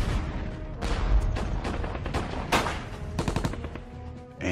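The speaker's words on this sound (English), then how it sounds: "A barrage of mortar fire, hand grenades" A wartime barrage of mortar fire and hand grenade blasts, dense overlapping bangs and rattling gunfire-like bursts in quick irregular succession, loud and continuous with no talking.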